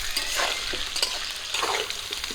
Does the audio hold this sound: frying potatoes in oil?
yes